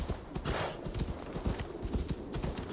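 Horse hooves clip-clop in a steady rhythm as a mount travels down a mountain in the Viking-era game Assassin's Creed Valhalla, close and clear over faint ambient game sound.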